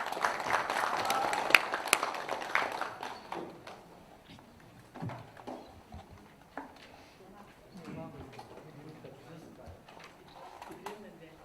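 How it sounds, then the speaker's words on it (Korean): Applause greets a poet at a Korean book concert, a burst of clapping that fades after about three seconds into sparse claps, footsteps and quiet talking in the room. "전숙 시인님을 박수로 모시겠습니다"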